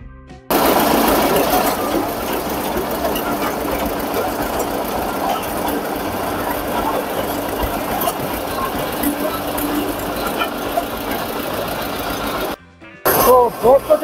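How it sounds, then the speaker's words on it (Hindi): Steady diesel engine drone powering a roadside asphalt mixing machine during road paving, a continuous mechanical rumble with rattling, heard up close with a brief cut near the end and people talking over it. "जो डामर की मिक्सिंग होती है उसके लिए ये सिलेंडर चलाया जाता है, इससे चलता है, और इंजन चलता है डीजल से"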